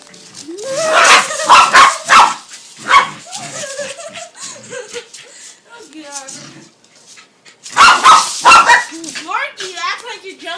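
Barking, yips and whimpers from two dogs, a Corgi named Morgie and another dog named Deegan, come in close bursts around a spinning-dog antic, with people talking and calling out over the noise.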